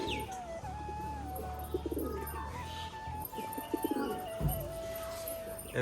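A pair of red pigeons coo softly and repeatedly nearby, low throaty calls rising and falling with some soft fluttering and shuffling around them, and no speech.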